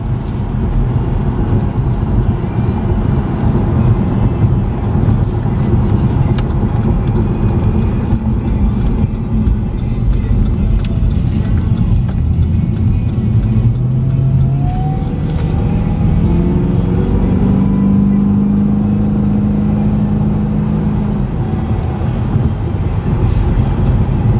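A salvage-title 2012 Cadillac CTS-V coupe with a 556 hp engine drives at steady speed, with a continuous loud engine and road roar throughout and a brief rise in engine pitch partway through.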